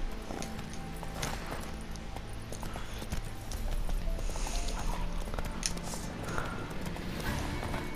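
Horse hooves clip-clop steadily in The Witcher 3 video game, a continuous mid-level gait running under game ambience for the whole stretch.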